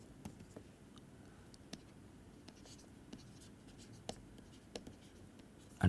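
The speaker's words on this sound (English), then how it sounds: "So let me just write it down." Chalk or marker on a board during a physics lecture, producing faint scattered taps and short strokes at an irregular pace in a quiet room.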